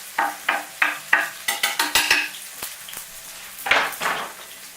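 Chopped ginger and chive tossed in hot oil in a pan, with a series of sharp scraping stirs and clanks of utensil on metal over a soft sizzle.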